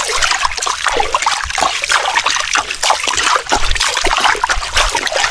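River water running steadily across a wide sandy riverbed, a continuous close trickling and splashing rush with no break across the whole stretch.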